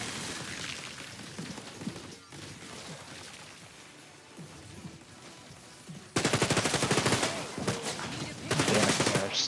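Turrets fire in the video game Gears of Destiny, rapid automatic gunfire that stays steady in the background, then turns loud and close with dense bursts for the last few seconds.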